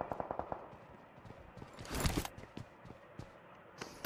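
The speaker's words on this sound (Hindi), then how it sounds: "कौन कर रहा है ये फायरिंग" Bursts of rapid automatic gunfire in the battle-royale game BGMI during a custom room match, a quick rattling volley up front, then scattered single shots and a louder burst, fairly faint and distant overall.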